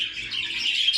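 Several small caged birds, rainbow birds kept for breeding, chirp and twitter continuously, close by, with a thin high-pitched texture.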